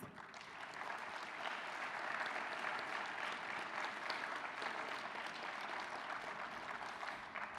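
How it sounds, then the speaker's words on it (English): Sustained applause from an audience at a morning gathering for a district office's Director of Systemic Equity and Inclusion, steady and fairly distant, filling the whole stretch without a break. "Could I get a round of applause, please?"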